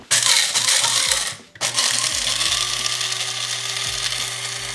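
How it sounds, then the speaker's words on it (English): Small electric spice grinder whirring as it grinds toasted spices into powder for a vegan steak rub, a loud steady buzz with a brief stop and restart partway through. "I'm gonna put it in my little grinder here. We're gonna grind all this up."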